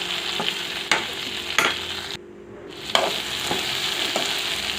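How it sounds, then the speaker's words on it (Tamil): Ivy gourd (kovakkai) fry is stirred in a pan on low heat, with a steady sizzle and periodic scraping strokes of the spatula, close and without talk. "ஒரு நிமிஷத்துக்கு ஒரு டைம் திறந்து நல்லா கிண்டி விடணும்"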